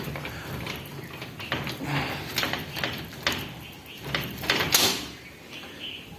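A door swung open at Bobbelamma Ammavaru Temple in Bakkanapalem, Visakhapatnam, with a series of wooden knocks, rattles and scraping shoves building to a louder clatter near the end, close by and with no talking.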